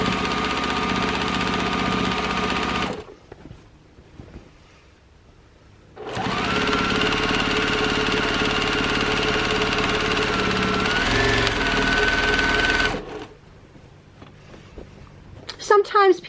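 A home sewing machine stitches binding onto a sampler quilt in two loud steady bursts with quiet pauses between them. Someone speaks quietly over parts of it.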